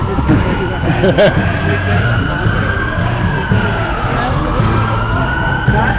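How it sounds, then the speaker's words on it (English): An ambulance siren wails, sweeping up and down in the distance beneath street noise and passing traffic, with people talking nearby. "it's just a, an ambulance."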